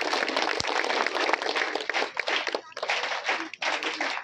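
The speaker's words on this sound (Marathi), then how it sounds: "आपण विद्यालयाच्या वतीनं त्यांचं टाळ्या वाजवून स्वागत करूया" A school audience claps to welcome a guest: dense, continuous applause from many hands for about four seconds, with no talking.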